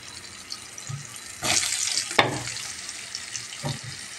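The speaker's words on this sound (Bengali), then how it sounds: "দেখো বন্ধুরা, আমার তেল গরম হয়ে গেছে। এখন আমি বেগুনগুলো দিয়ে দিচ্ছি।" Eggplant slices dropped into hot oil burst into a loud sizzle, followed by a few sharp clatters and a quieter crackle that settles down, close up in a home kitchen with no talking.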